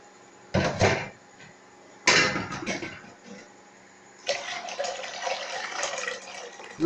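Beans being washed by hand in a basin of water, with splashing and swishing bursts at intervals and a longer stretch of rubbing and sloshing toward the end, close and moderately loud.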